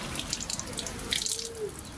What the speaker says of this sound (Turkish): Bir yanda serinlemek için musluk sırası bekleniyor.